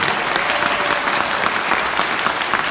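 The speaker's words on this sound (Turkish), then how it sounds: "Güçlü bir alkış alalım mı çiftimize?" Strong, loud applause from wedding guests at a civil marriage ceremony for the couple, many hands clapping in a dense, continuous roar throughout.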